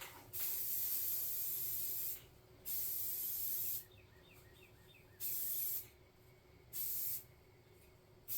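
Aerosol spray paint laid down as a base coat on a tabletop miniature: four steady hissing bursts of about one to two seconds each, separated by short pauses, close and fairly loud with no talking.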